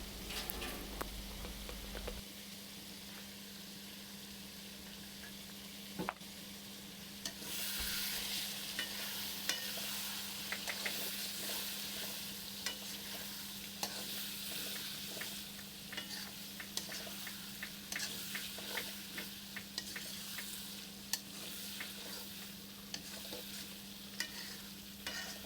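Potatoes frying with salt and turmeric for a rohu fish curry, a soft steady sizzle with stirring scrapes and clicks that grow busier after the first few seconds, with no talking.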